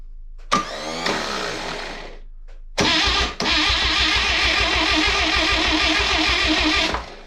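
A starter cranks an engine in two bursts as its starter solenoid is jumped with a screwdriver, giving a loud, rapid rhythmic churning close up with no catch or firing and a brief pause between attempts.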